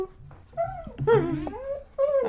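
A pet dog whines in a high, wavering voice, several drawn-out whimpers rising and falling over about two seconds, fairly close and indoors, with a short pause before the last cry.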